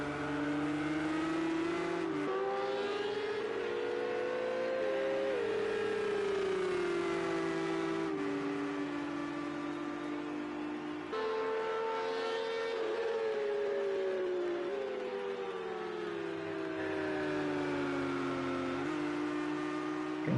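A Ferrari race car engine at Silverstone in a PS4 sprint race, howling at high revs with rising and falling pitch as it accelerates and shifts through gears, sustained and steady for the whole stretch with other engines droning underneath.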